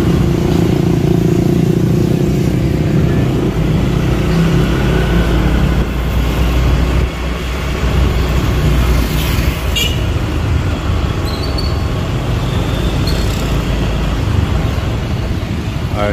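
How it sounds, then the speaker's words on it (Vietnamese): Dense street traffic of motorbikes and cars at a red-light junction in Thu Dau Mot, a loud, continuous engine rumble with passing vehicles and occasional horn-like tones throughout. "Đây, xe máy đèn đỏ, xe máy được phép quẹo trái."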